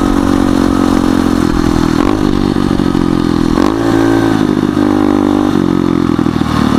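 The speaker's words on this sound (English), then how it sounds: "it's a pit bike, but it's a dirt bike" Pit bike ridden as a dirt bike on main roads, a loud, close, buzzing small engine with shifting revs and throttle changes, continuous throughout with no talk.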